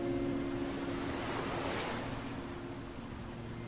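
Sea waves surging against a rocky shore, a steady loud roar of surf that swells in the middle with wind noise on the microphone, heard close by and alone.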